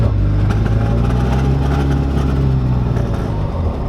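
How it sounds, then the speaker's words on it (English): A turbocharged Chrysler TC 16v engine revving hard, a loud sustained mechanical roar with a steady low drone, close up. "once that turbo kicks in, it actually revs up pretty quickly"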